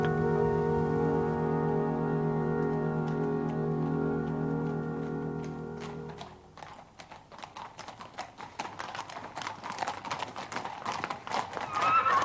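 A horse's hooves clip-clop in a steady walking rhythm, close and distinct, following a sustained droning tone that fades out partway through.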